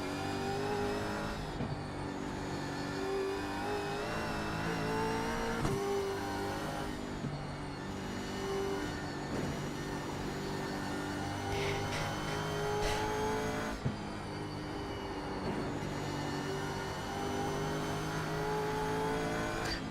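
A touring race car's engine revs hard through the gears during an iRacing multiclass race at Bathurst, with repeated rising and falling engine notes, brief lifts between shifts and occasional tire squeal, loud and up close.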